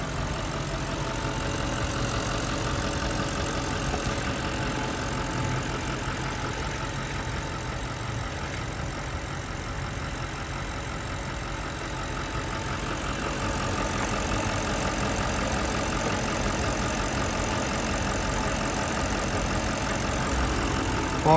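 A stock 2014 Audi RS5 Quattro with a naturally aspirated 4.2L V8 idles steadily for a long stretch, a dense, even engine rumble that stays loud and close and rises slightly toward the end, with no talk.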